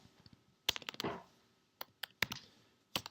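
A computer keyboard clacks as a lecturer types a cut-and-paste edit, giving a handful of sharp, separate keystrokes in uneven bursts close by with quiet gaps between them.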